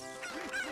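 Cucco chicken squawk from the video game The Legend of Zelda: Ocarina of Time, a short nasal honking cry rising and falling twice over steady game background music.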